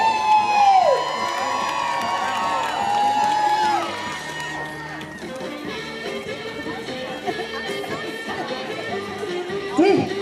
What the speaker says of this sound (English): All right, folks, I want to hear the crowd again.